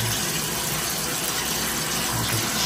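Hotel room shower at a resort, running as a steady, close hiss of spraying water that continues unbroken and fairly loud with no voices over it.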